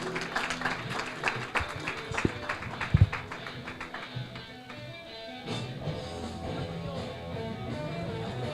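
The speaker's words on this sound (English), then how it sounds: "Big round of applause for Ziggy, please." An audience at the NextGen GC Summit 2025, a legal industry conference, gives a speaker a round of applause: a burst of dense clapping that builds and then thins out into room murmur.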